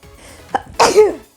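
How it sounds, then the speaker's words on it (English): A single close, loud sneeze: a short sharp intake of breath, then an explosive burst that trails off quickly. "I'm gonna sneeze."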